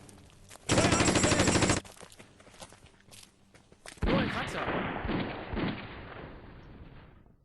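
Light machine gun squad opening fire in the Conflict of Heroes wargame: a loud sustained burst of automatic fire, a pause with faint clatter, then a second heavy rattling volley with rumbling impacts.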